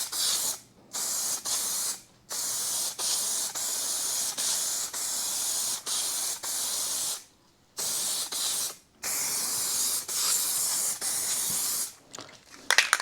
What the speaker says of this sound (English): Let's go ahead and do a dust coat, I guess. Test our sprayer.